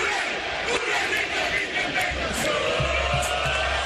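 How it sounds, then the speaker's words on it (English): A tailgating crowd of fans at a Bengals versus Ravens AFC Wild Card playoff football game yells and chants together in a dense, sustained roar, with a few louder shouts standing out above it. "The chant ripples through the tailgating crowd."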